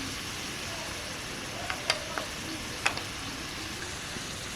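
Ginger garlic paste goes into a frying pan with tomatoes for vola fish rosa, making a constant broad sizzle with a few sharp clinks of a spoon against the pan.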